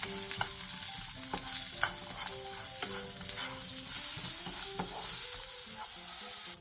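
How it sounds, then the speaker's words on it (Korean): Carrots stir-fried with a pinch of salt in an oiled pan over medium-low heat give a steady, close sizzle, with spatula scrapes and stirring clicks scattered throughout until an abrupt stop. "당근과 소금 한 꼬집을 넣고 중약불에서 2-3분 정도 볶아주세요"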